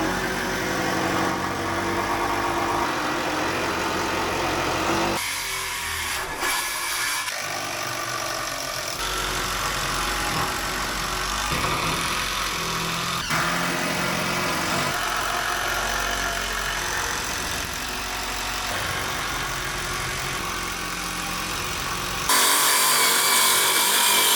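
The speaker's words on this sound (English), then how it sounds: "This right here, this is actually our heat source. It's one of those diesel heaters." A diesel heater runs in a workshop, giving a steady, close mechanical hum and drone that carries on with little change, briefly interrupted by clattering and shifting noises partway through.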